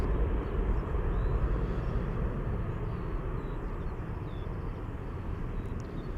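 A Delta Airlines wide-body jet departs Amsterdam Schiphol Airport, heard as a steady, distant low engine rumble that holds evenly throughout.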